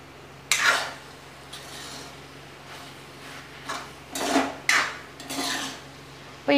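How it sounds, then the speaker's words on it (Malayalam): A spoon scraping and clinking in a cooking pan while stirring beef as it dries out, irregular metallic scrapes and knocks at close range over a low hum, no talking. "അപ്പോൾ നന്നായിട്ടൊന്ന് മിക്സ് ചെയ്ത് ഇളക്കി ഒന്ന് കൊടുക്കാം"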